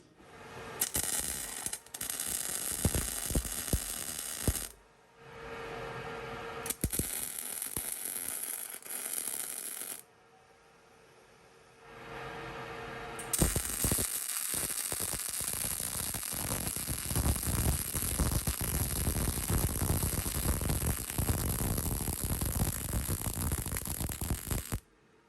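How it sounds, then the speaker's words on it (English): Welding a truck receiver hitch, with a harsh crackling, hissing arc that runs in bursts separated by short silent gaps and then holds steady and loud for the last half, no talking. "So now it's time to weld this."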